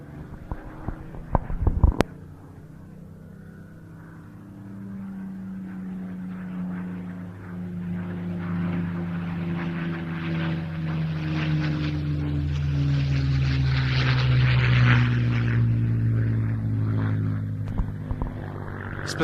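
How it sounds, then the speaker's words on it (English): A Spitfire in 12th Air Force, 31st Fighter Group colours flies at the IWM Duxford flying day. A few sharp clicks come first, then a propeller engine drone builds steadily into a loud, close pass before easing slightly. "This one is in the colours of a 12th Air Force Spitfire from the 31st Fighter Group."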